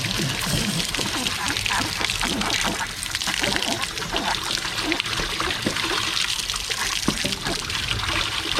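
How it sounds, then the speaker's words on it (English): Water gushing and splashing from an RV water heater tank (Dometic GC6AA-10E) being flushed with a wand: loud continuous trickling and pouring with sloshing spatters, close up and steady throughout. "Now we just take this wand, put it in the tank"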